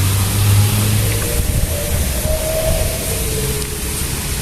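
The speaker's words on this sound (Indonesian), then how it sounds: "begitulah cara pengoperasian mesin kantas kepada pelepah" A motorised kantas machine cuts oil palm fronds on a plantation, its engine droning loud and steady with a low rumble and shifting whine and no talk.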